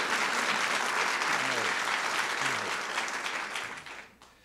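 Applause fills an indoor room at a swearing-in ceremony, a dense sustained clapping from a crowd with a few voices underneath, fading out at the end.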